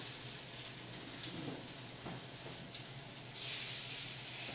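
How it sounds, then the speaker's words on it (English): Pork chops sizzle on a hot grill pan, a steady close crackling hiss with small pops throughout, no voices. "You can hear the nice sizzle on that."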